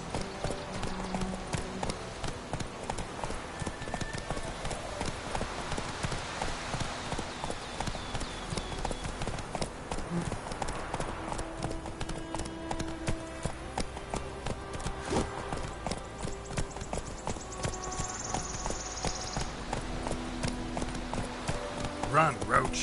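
Hooves of the horse Roach galloping in The Witcher 3, a steady rapid clip-clop running throughout under music and dialogue between characters.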